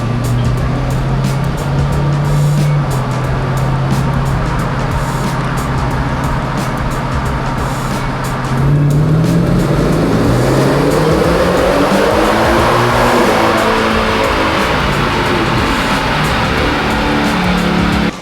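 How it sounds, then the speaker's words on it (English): A Ford Raptor R fitted with a Whipple supercharger runs on a chassis dyno. A loud, steady engine roar holds for several seconds, then climbs in a sustained pull as the revs rise toward the limiter. "So we're gonna get this dyno calibrated, and then we're gonna do a couple rips."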